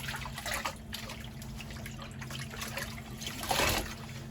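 A synthetic wig swishes through a basin of cold soapy water, giving soft close trickling and sloshing sounds with a slightly stronger splash near the end, over a faint steady hum and without voices.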